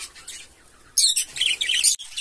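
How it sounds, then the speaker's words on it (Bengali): A pet cage bird gives bright, rapid chirps and tweets close by, a quiet opening followed by a louder burst of twittering calls. "দেখেন পাখিটা, এই যে দেখছেন আমার খুব প্রিয় পাখিটা।"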